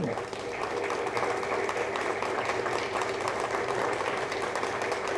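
A large audience at a Cinema Journalist Association event applauds in a dense, sustained wash of clapping that carries steadily through the whole stretch without letting up.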